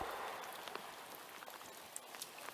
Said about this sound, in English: We're out in the rain right now, and you can see it